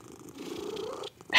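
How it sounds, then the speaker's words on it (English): A domestic cat gives a solicitation purr, a low rumbling purr with a higher-pitched, whiny vocal laid over it, close and continuous, cut off by a brief louder burst at the end. "basically that low pitched purr with a higher frequency vocalization over top of it"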